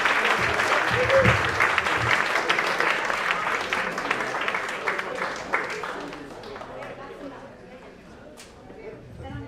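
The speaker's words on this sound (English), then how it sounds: "Another round of applause" Dinner guests at a fundraiser for a cookstove project applaud, a full crowd of clapping mixed with chatter that gradually thins and softens over nine seconds, voices lingering under it.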